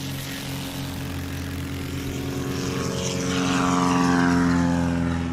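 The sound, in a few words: STOL competition airplane taking off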